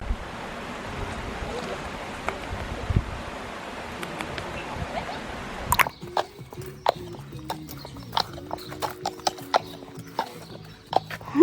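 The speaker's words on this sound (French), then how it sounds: "ici, on a un poney qui veut pas aller dans l'eau" Pony and mares wading in a river, with hooves and splashing in moving water, steady wash of water for the first half, then scattered splashes and clops against quieter flow; faint voices in the background.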